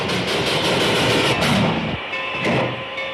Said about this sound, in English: So is this the train that Hillman's on?